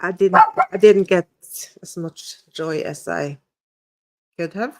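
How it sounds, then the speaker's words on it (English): A pet dog barks a few times indoors, short sharp yips mixed in with a person talking steadily in the foreground. "Sorry about my dog."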